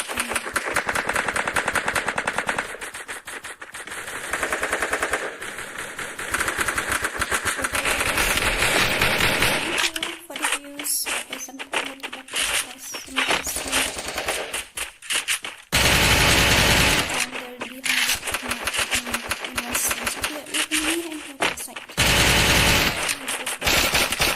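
A UMP submachine gun fires in a video game in loud, rapid bursts of automatic fire with short pauses between them, sharp and close throughout.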